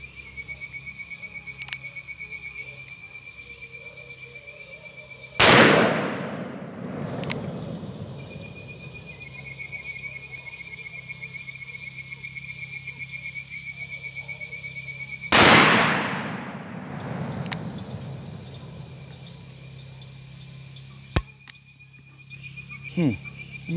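Two loud .45 Colt shots from a Charter Arms Bulldog revolver, about ten seconds apart, each with a long rolling echo outdoors, over a steady chorus of frogs and insects.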